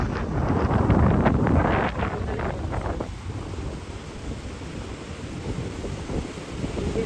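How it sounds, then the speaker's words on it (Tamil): Strong wind roars at the seashore in Sri Lanka before rain, with buffeting gusts hitting the microphone over the steady rush of rough surf throughout. "எவ்வளவு காத்து மழை வர்றதுக்கு முதல் போயிடணும் மழை துமிக்குது"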